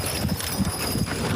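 Horses' hooves clip-clop at the Metcalfe Fair horse show, a steady rhythmic trot of hoofbeats at moderate distance over a continuous outdoor background.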